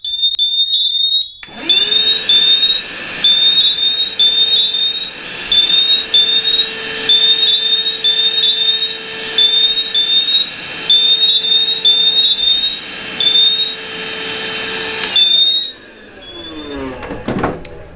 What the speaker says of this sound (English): All I'm going to do is vacuum this.